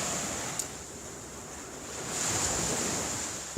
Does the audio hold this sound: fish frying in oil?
no